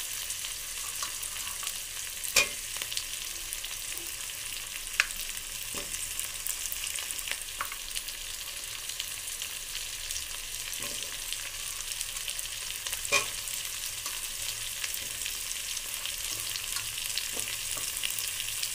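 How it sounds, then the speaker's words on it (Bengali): Potatoes fry with onion and chilli in a pan, a quiet, steady sizzle running throughout and punctuated by occasional light clicks and scrapes of a stirring spatula. "আলুগুলো এবার আমি একটু ভেজে নেব ফ্রেন্ডস, কষিয়ে নিচ্ছি আলুগুলো"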